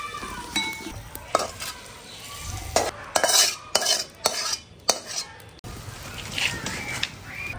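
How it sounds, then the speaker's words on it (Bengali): Boiled taro pieces fry in a kadai while a metal spatula stirs and scrapes against the pan in sharp, irregular clinks over a soft continuous sizzle, close and loud. "ভেজে নিছি এমনি কড়াইতে"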